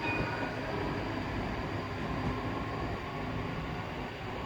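ScotRail electric train pulls away from Edinburgh Park station, a faint, steady rumble and hiss of rolling rail carriages without distinct clicks, heard at a distance with no voices.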